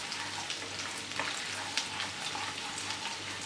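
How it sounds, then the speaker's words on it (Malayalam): Chopped garlic and ginger sauté in hot oil over a high flame, giving off a steady, soft crackling sizzle with occasional louder pops and stirring scrapes, close by and without talk. "എണ്ണ ചൂടാകുമ്പോൾ അതിലേക്ക് നമുക്ക് ചോപ്പ് ചെയ്ത് വെച്ചിരിക്കുന്ന വെളുത്തുള്ളിയും ഇഞ്ചിയും ചേർത്ത് കൊടുക്കാം."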